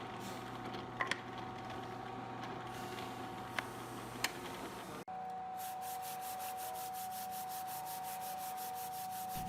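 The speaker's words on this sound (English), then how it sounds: "I'm just going to give it a light sanding before assembly here." Light hand sanding of a wooden pool cue display case part before assembly, a steady close scratchy rubbing with a few sharp taps, shifting after a brief pause to a smoother, more even rhythmic rasp.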